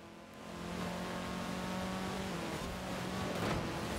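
A car engine in Forza Horizon 4 holds a steady, mid-pitched roar through a drift, rising slightly near the end with no talking over it.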